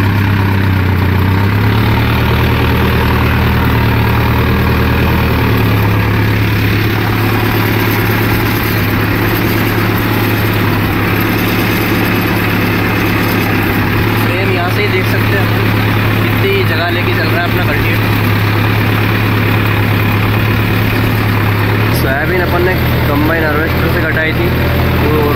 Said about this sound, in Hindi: 1300 से 1400 RPM पे चलाएंगे अपन ट्रैक्टर।